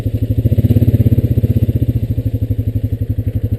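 A Honda Rancher 420AT ATV engine chugs close and loud while riding, with a fast, even, pulsing thump that slows slightly toward the end.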